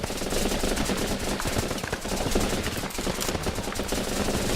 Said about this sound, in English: Keep up the heavy fire.